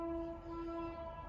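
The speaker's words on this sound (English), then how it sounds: "now the train is coming" A train approaches with a sustained, loud horn tone over a continuous rumble of rail noise, steady for the whole short stretch with no voices.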